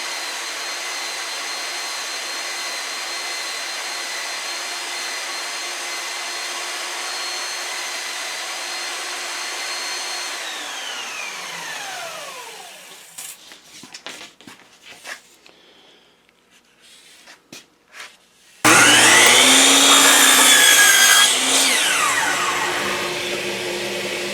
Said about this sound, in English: I'm just going to trim up a little bit of this round over because it's kind of wavy in spots.